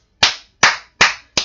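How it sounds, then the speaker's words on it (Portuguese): Four sharp, close hand claps ring out alone, evenly spaced about half a second apart, each a crisp slap that fades quickly into silence. "Você aí de casa, gente, aplaude o Genilson."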